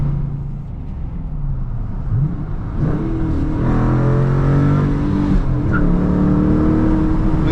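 A Dodge Challenger R/T with a six-speed manual revs hard after a downshift to second, the V8 note climbing loud and close from inside the cabin and holding steady under load.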